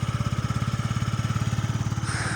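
A Yamaha Jog SA39 fuel-injected scooter imported from Japan runs at a steady idle, its small engine putting in a fast, even pulse, close and alone throughout.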